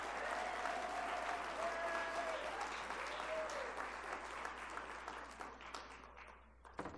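A crowd gives sustained applause for honorees at the Kemet in the Desert event, dense steady clapping filling the room for about seven seconds before tapering off near the end.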